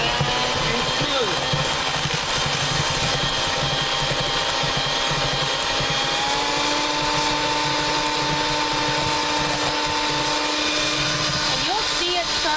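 An electric mixer beats pie filling in a bowl until creamy, a steady, loud motor whir that holds unbroken throughout.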